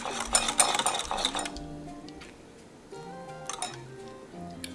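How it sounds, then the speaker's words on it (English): A sauce being whisked in a bowl, with quick metallic clinking and scraping of the whisk against the bowl's sides for about a second and a half, then quieter scattered ticks over a soft background hum. "To whisk that in there."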